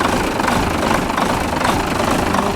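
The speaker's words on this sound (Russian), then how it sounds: "Видите, вот после ремонта форсунок, как двигатель работает устойчиво" A Renault Major truck diesel engine idles after its injectors were repaired, running close, loud and even, with a steady rhythmic chug and no talk over it.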